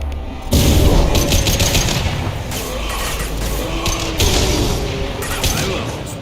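A rifle fires rapid automatic bursts during Mass Effect 2 combat, with loud cracking shots and booms over a noisy battle bed, while voices speak faintly underneath.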